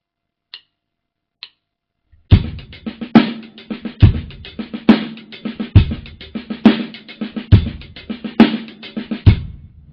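A drum kit playing a paradiddle-diddle sticking with a bass drum added on the right-hand strokes, after two light stick clicks, a fast steady run of snare strokes with a deep kick thumping on each repeat, close and dry.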